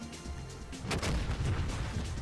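A missile strikes and explodes in the DCS World combat flight simulator, where aircraft attack an enemy convoy: a sudden heavy boom about a second in, followed by a sustained low rumble with no talk.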